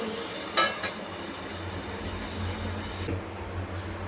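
Garlic cloves and chili pieces sizzle in hot oil, a steady close frying hiss with a brief clatter near the start as they go in, then the sizzle cuts off sharply toward the end.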